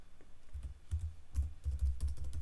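Quick bursts of keystrokes on a computer keyboard, close and crisp, tapping in short irregular runs with brief pauses between clusters, no voices.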